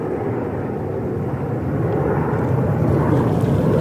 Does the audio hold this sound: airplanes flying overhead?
yes